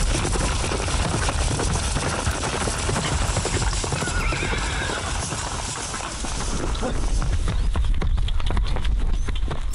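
Sumba horses on the island of Sumba, their hooves clip-clopping in a dense, continuous patter with neighs and whinnies mixed in, close and loud throughout.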